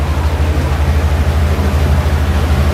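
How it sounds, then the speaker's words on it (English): A Yamaha outboard motor runs on a lake cruise boat, giving a loud, continuous, even engine drone with a deep humming tone and no break or speech. "it looks like it's a Yamaha outboard motor"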